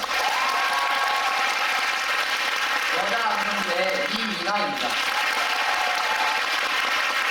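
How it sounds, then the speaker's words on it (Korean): Audience applause fills a musical theatre during the closing-night curtain call of King Arthur, a steady broadband wash that continues throughout while someone speaks briefly over it near the middle. "따뜻한 박수 부탁드립니다"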